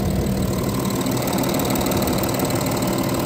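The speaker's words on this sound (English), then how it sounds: "as you can hear, it ticks over nicely" A 2014 Audi A4 Allroad with a 3.0 V6 TDI quattro diesel engine idles steadily, heard close up with the bonnet open, giving an even, slightly clattery diesel tick-over with no voices.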